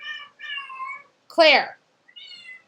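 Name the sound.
cat meowing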